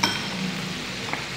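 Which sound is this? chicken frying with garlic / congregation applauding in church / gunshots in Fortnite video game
chicken frying with garlic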